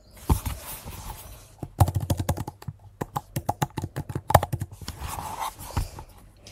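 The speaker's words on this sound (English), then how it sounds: "Let me type my email." Fingers type an email on a computer keyboard, a rapid irregular patter of close, crisp key clicks with brief pauses and breathy background noise.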